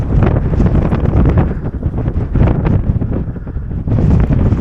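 Strong wind sweeps across fine outback sand, buffeting the microphone with a loud, continuous roar that swells and eases in gusts.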